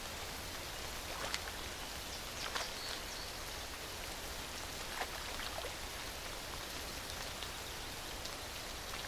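Steady rain falls in a dense, even hiss with a few scattered louder drops, in a natural outdoor setting with no voices.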